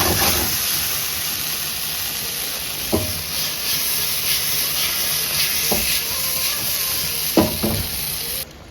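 Fried fish steaming in a pot of coconut milk with onion, garlic and pepper, giving a steady broadband sizzle and hiss with a few soft knocks and stirs, no talking.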